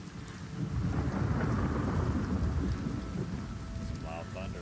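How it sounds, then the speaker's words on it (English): Loud thunder in a video game, a deep sustained rumble rolling over steady rain, swelling early and slowly easing off, with a few faint tones near the end. "Some loud thunder"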